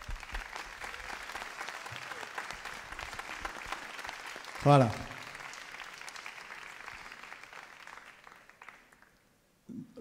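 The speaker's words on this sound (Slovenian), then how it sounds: "dajmo jim zaploskati" Audience applause fills a live concert at the Lent 2019 festival, sustained clapping that fades out toward the end, and a voice speaking briefly mid-way.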